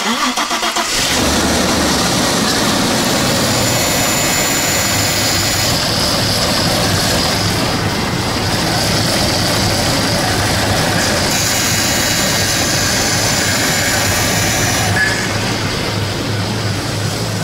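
An Audi A6 engine cranks and catches, then settles into a loud, steady idle rumble that continues throughout.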